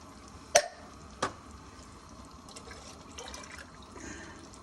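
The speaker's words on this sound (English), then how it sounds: "I rinse the tins out so I get every little bit of tomato in there" Water swirled in emptied tomato tins and tipped into a pot of bolognese sauce, two sharp knocks followed by faint trickling and splashing, close but quiet, no talking.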